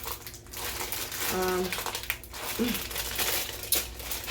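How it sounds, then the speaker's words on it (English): Crinkly plastic rustles and crackles in short bursts, close by, with a few brief clicks mixed in. "So what I'm going to do is open this bag."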